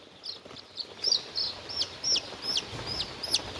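Young chicks on their first day in a poultry brooding house give repeated high thin peeps and chirps, a quick series of calls over a quiet background with soft rustling.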